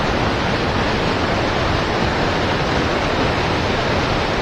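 Loud, steady rush of white water pouring over the Fox River spillway, a dense unbroken roar close by with no other sounds.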